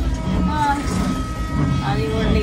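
A steady low rumble from a moving, rocking passenger train carriage runs throughout, with people talking nearby over it.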